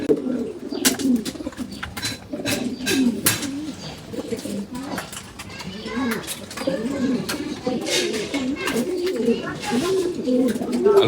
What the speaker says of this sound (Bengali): আমার হাতে একটি কবুতর দেখতে পাচ্ছেন আপনারা, একটি বাচ্চা কবুতর।